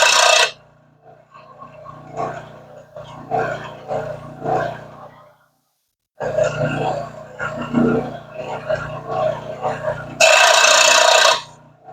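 A small power saw cuts through a wooden dowel in two bursts of harsh, buzzing rasp, with a loud motor whine near the end.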